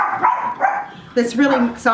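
Dogs bark and yip loudly nearby in several quick bursts, mixed with a person talking at the same time.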